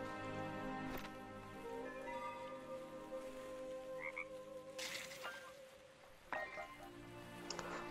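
Frog croaking in the survival game Wildmender, a few distinct croaks standing out over steady game music and ambient tones, moderately close.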